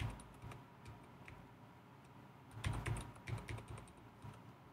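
Fingers tap on a computer keyboard, close and quiet, in irregular clusters of keystrokes with a denser burst toward the end and no talking.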